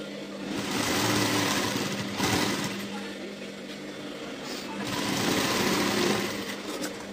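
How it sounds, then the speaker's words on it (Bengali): A sewing machine runs steadily while stitching a blouse, a soft continuous mechanical whir that swells and eases over several seconds, with someone speaking faintly underneath. "চাপাপট্টি এবার আমি উপর দিয়ে সেলাইটা দিয়ে দেবো"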